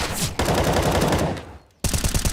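Rifle gunfire in Counter-Strike on the Inferno map during a pro match: a loud, rapid burst of automatic fire, a brief pause, then another fast string of shots.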